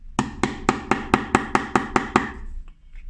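Nine evenly spaced sharp knocks from a plastic mallet striking leather during hand stitching, each a crisp close thud with a short ring, struck at a steady rhythm, then quiet.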